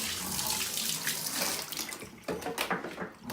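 Tap water runs steadily onto a dirty Schneider CPC664 circuit board held under a sink faucet, a close, continuous splashing rush that turns choppier as the board is moved through the stream.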